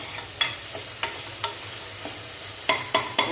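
Grated coconut sizzles gently in a hot pan while a spoon scrapes and stirs it in sharp, irregular strokes, about eight distinct scrapes over a soft frying hiss.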